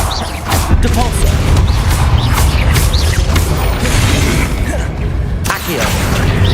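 A Depulso spell goes off during a Hogwarts Legacy boss fight, heard as loud, dense blasts and mechanical clatter with booming impacts that continue without letup through the whole clip.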